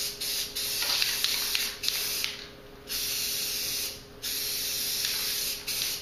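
Aerosol spray paint in bass green hissing onto a homemade fishing rod rack, a run of short bursts, each lasting about a second or more with brief gaps, steady and fairly close.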